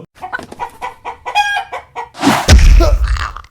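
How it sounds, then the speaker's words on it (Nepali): Animated chicken clucks in a quick series of short, loud calls, followed by a louder burst of squawking and flapping at the end, with no speech. "ओए उ त्यहाँ हेर त, कुखुराले ठोकिरहेछ।"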